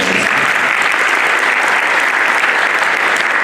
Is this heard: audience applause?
yes